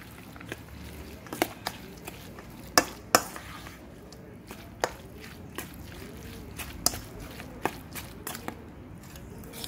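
Tuna fish salad being stirred in a bowl: irregular, close-up clicks and knocks of a utensil against the bowl over soft, wet scraping, continuing steadily with no talking.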